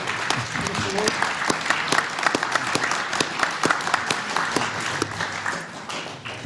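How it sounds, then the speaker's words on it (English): A sustained round of applause from a conference audience for Mr. Lee Jae-oh after his speech on the U.S.–ROK alliance, with many hands clapping evenly throughout and a few sharp individual claps standing out. "can we have another round of applause for Mr. Lee?"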